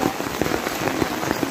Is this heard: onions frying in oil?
no